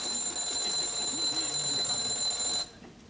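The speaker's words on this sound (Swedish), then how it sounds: "Nu ringer hans väckarklocka" A shrill, continuous alarm clock rings loudly for a few seconds, then cuts off abruptly into quiet.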